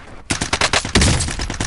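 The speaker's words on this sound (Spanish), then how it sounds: "A lo loco disparando a lo loco." Rapid automatic gunfire in the video game Warzone, a loud, dense burst of shots in quick rhythm that starts after a brief quiet moment and keeps going, with no talking.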